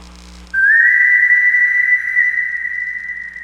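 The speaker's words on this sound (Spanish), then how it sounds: "Escucha mi silbido." A single sustained high whistle, loud and steady for about three seconds, starting abruptly after a brief quiet moment, part of an outdoor projection-mapping show at Madrid's Prado museum.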